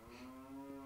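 A cow in the video game Zelda: Majora's Mask gives a single sustained low moo, clear and steady for about a second with no talk.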